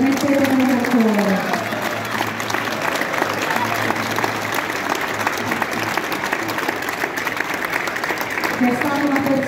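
A crowd at the Festa della Rificolona 2023 gives sustained applause as a tribute to Graziano Grazzini. The clapping is dense and even, and a speaker's voice comes in briefly at the start and the end.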